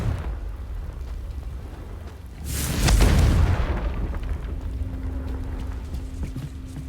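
Confringo blasting spell from Hogwarts Legacy going off as a loud, sudden explosion with a bright whooshing burst, followed by a deep rumbling tail over steady game ambience.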